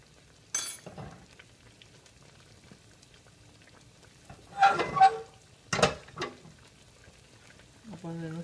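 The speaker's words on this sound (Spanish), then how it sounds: "Vamos a ponerle nuestra agüita." Water is poured into a hot pan of frying pork chops, set off by a few short, loud sizzling and splashing bursts between quieter stretches of low crackle, with a brief harmonic sound near the end.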